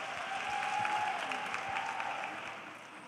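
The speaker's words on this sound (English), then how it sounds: "Please give her a round of applause again." Audience applause for the CEO of EWCTA, a steady, full round of clapping from a crowd that holds level for about three seconds before easing off slightly.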